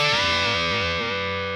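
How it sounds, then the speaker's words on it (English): Distorted electric guitar playing a string bend from a solo, two strings struck together with the third string bent upward, a single sustained, wavering note standing alone and close. "we're going to hit these 2 strings and just bend up the 3rd string."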